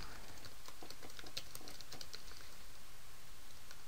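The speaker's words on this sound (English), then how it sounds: "I'm typing really fast." Fast typing on a computer keyboard, a quick, irregular patter of light key clicks close by over a low steady hum, with no talking.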